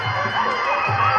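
A Thai boxing crowd roars in a steady, dense wash of many voices, loud and continuous through the short moment.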